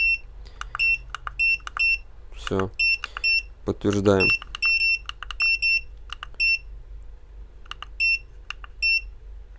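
Short electronic beeps from an Aixun T380 battery-powered soldering station repeat in quick regular bursts, close and clear, while a voice speaks briefly in between.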